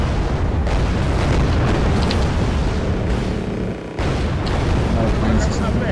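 Explosions and heavy booms from a combat flight video game as aircraft such as a MiG-27 are shot down, a dense, loud, continuous rumble of blasts with brief dips, under and around excited talk.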